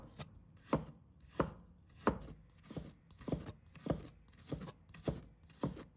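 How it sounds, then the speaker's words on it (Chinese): A knife chopping fresh ginger into fine shreds on a cutting board, making a steady series of crisp, close thuds at an even rhythm, with no talk. "把它切成丝"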